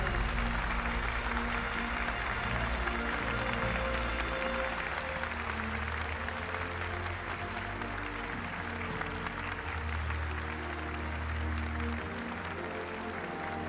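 A large crowd claps steadily and loudly for a third-place team at a Gran Turismo World Series esports event in Fukuoka, sustained applause filling the whole stretch without letting up.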